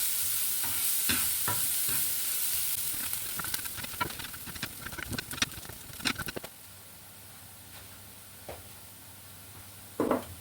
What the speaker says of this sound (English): put a pan onto a medium heat with some butter and just cook away the other half of the onions that you cut up